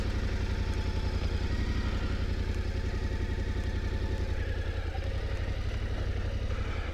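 An off-road motorcycle engine idles close by, a steady rapid low-pitched chug with light mechanical clatter running without a break.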